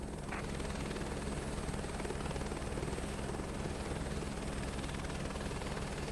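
A helicopter lifting off from a helipad in Microsoft Flight Simulator 2024 gives a steady, loud rotor and turbine drone with a constant buzzing hum throughout, unchanging and alone without voices.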